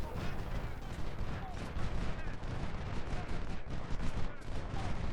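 Dense musket volleys crackle continuously in an Ultimate General: Civil War battle at Crampton's Gap, a rolling mass of overlapping shots with a low rumble underneath and no distinct single reports.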